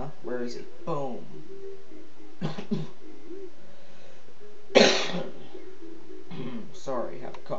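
A single sharp cough rings out near the middle, surrounded by brief stretches of talking and quiet pauses.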